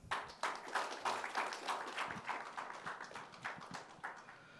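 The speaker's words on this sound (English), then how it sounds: "let us all once again applaud him for doing this great project" An audience applauds at an India–USA trade connect event, a dense, steady wash of many hands clapping that carries throughout at fairly even loudness.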